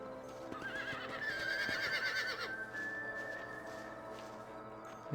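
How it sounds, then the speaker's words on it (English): A horse in the Red Dead Redemption video game gives a loud, wavering whinny that rises and trails off, with faint hoof clops and quiet ambience around it. "I think this one's my horse."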